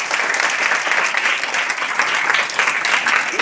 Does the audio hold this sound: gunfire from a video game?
no